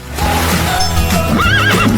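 A horse neighs loudly and close by, a long wavering whinny that rises and trembles, with faint hoof clatter beneath it.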